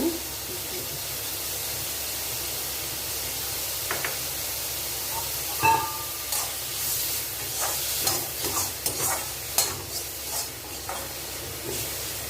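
Cauliflower sautéing in a little oil with salt in a pan for a Chettinad-style fry, a soft steady sizzle with occasional stirring scrapes and clinks, fairly quiet throughout.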